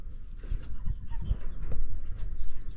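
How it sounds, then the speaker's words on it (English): Young mono pheasants hatched this year, kept in pens on a hot day, give soft low clucks and calls close by over a faint outdoor background, with no talking. "So here's my young monos hatched this year."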